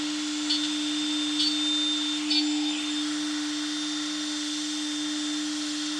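A Genmitsu 3020 Pro Ultra desktop CNC machine cuts metal with a steady, fairly quiet whine and a constant motor tone, with a few faint brief ticks near the start.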